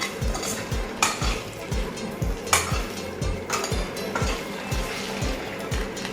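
Eggs fry in a pan over a medium flame for egg biryani, a low sizzle under a quick, regular train of spatula scrapes, about two per second, with occasional louder clinks.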